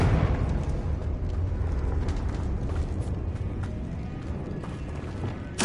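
A Confringo fire spell explodes in Hogwarts Legacy on PS5, a loud sustained rumbling blast that roars steadily throughout, with a sharp burst right at the end.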